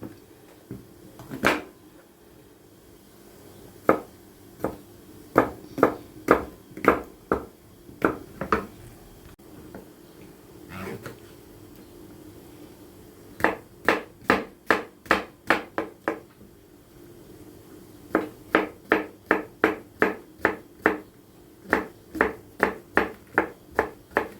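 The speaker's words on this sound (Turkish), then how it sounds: "yine küçük küçük doğruyorum." A knife taps rapidly on a cutting board chopping mushrooms, in bursts of quick, even chops separated by short pauses, close and fairly crisp.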